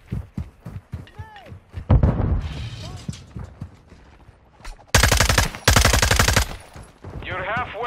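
Rapid automatic gunfire from the Call of Duty Modern Warfare video game crackles in loud, dense bursts, mixed with shouted voices and other game sounds.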